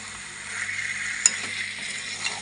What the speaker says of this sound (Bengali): সব আলুগুলো দিয়ে দিলাম এখন ভালোভাবে আর একটু কষিয়ে নেব